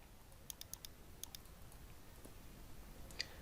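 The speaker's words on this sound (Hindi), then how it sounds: "चेक प्लेगरिज्म के ऊपर मैं क्लिक करता हूँ" A computer mouse clicks several times in quick pairs and short bursts, faint and close, against a quiet room hum with no talking.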